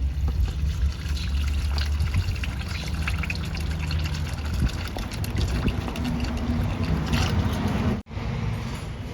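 Old engine oil draining from the oil pan of a Mitsubishi Pajero Sport, a steady close liquid trickle and pour running throughout with a brief dropout near the end.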